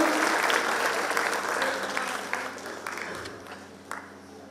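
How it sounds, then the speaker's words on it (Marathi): An audience at an award ceremony claps loudly and steadily, a dense wash of applause that slowly fades, with faint voices behind it. "सर्वांनी जोरदार टाळ्या घ्यायच्या आहेत"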